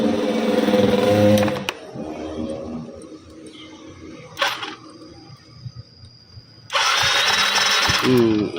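A fuel-injected motorcycle that won't start is cranked on its electric starter in two loud, whirring bursts, one at the start and one near the end, separated by a quieter stretch with a brief knock, with someone talking close by.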